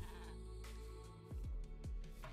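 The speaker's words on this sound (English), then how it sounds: "There's a llama." A Minecraft llama bleats a few times in quick succession, wavering nasal calls rising over a steady background hum with no talking.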